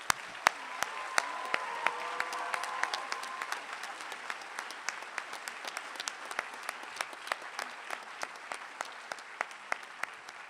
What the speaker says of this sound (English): Graduates, please lead us in saying thank you with a round of applause.